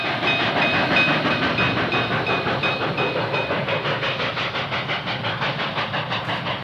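A steam locomotive, a new M1 Berkshire, on the test track at the Lima Locomotive Works plant in 1949 rumbles along with a steady rhythmic clatter and a hissing, chugging texture, loud and close throughout, no voices.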